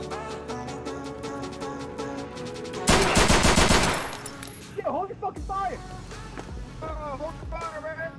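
Gunfire in an online multiplayer shooter game, a dense burst of automatic shots about a third of the way in, loud and close, with quieter clicks and game sounds around it and voices talking elsewhere in the clip.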